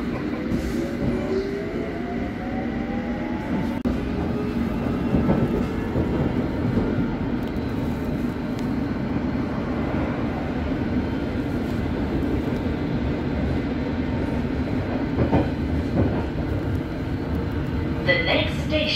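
A London Underground Hammersmith and City Line train rolls along with a continuous loud rumble, wheel and rail noise and squeals, while a recorded announcement voice is heard over it.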